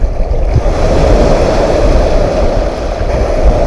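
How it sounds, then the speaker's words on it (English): Waves on a big lake roll over and tumble rocks along the shore, a steady close wash of surf with wind noise across the microphone, no talking. "That's the big lake. Rolling those rocks around, smoothing them out."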